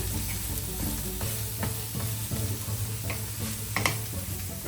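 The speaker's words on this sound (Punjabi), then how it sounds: "ਇਹਨਾਂ ਨੂੰ ਹੁਣ ਥੋੜਾ ਜਿਹਾ ਭੁੰਨ ਲੈਣਾ ਇਹਨਾਂ ਥੋੜਾ ਜਿਹਾ ਨਾ ਇਸੇ ਤਰ੍ਹਾਂ ਹੀ ਫਰਾਈ ਕਰਨਾ" Onions, broccoli and carrots stir-frying in a pan for Punjabi-style noodles, a constant close sizzle broken by irregular scrapes and clinks of a utensil against the pan.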